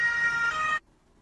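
A loud ambulance siren blares briefly as it passes, a sustained tonal wail that stops sharply after under a second, followed by near silence.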